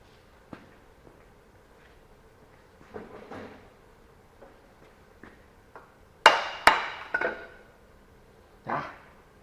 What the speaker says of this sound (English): Let's get the hammer.